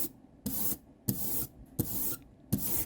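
A rubber brayer rolls printing ink into a thin, even layer for hand-printing linocuts without a press, giving a repeated sticky hiss in four close, steady back-and-forth strokes, each a broad bright rasp separated by short gaps.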